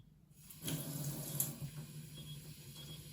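Tap water gushes steadily into a container after a valve opens, a close, continuous hiss and splash that starts abruptly and stays even, with no talking.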